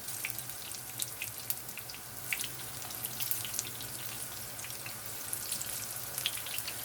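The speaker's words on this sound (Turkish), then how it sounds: "Patlıcanlarımız kızarırken" Steady crackling sizzle of eggplant frying in hot oil, with scattered sharper pops over a constant low hum.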